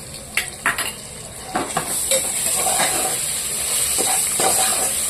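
Ginger and garlic sauté in a pan for a mutton dish, with a few clinks and scrapes of a spoon against the pan giving way to a steady, close sizzle.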